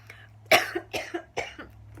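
Three sharp coughs in quick succession, close and fairly loud, each a short harsh burst with brief pauses between.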